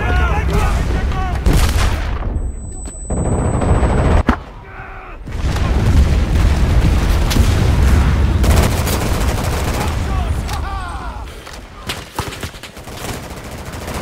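Gunfire from the M1 Garand rifle in the video game Enlisted, with loud repeated shots and bursts amid a dense battlefield mix, a brief quieter gap midway and a single high ping, with no talk.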